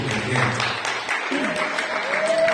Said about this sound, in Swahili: Hebu mchapie Yesu makofi kwa